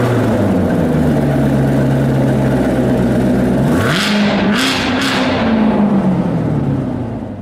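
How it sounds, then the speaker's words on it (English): A 2019 Corvette ZR1 with a big V8, recorded close to the exhaust, idles with a deep rumble, then revs sharply in two quick throttle blips before settling back to a loud idle. "Here's another angle much closer to the exhaust to see it a little better, and just because I wanted another excuse to lay my foot on the gas pedal."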